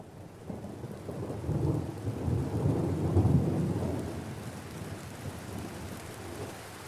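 Heavy rain pours steadily throughout while deep thunder rumbles build and peak around the middle before easing back, a loud, close storm with no voices, the kind that rattles the windows of a forest bungalow.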